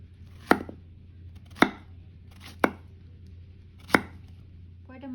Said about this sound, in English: For the zucchini, same size, cut a 1/4 inch thick.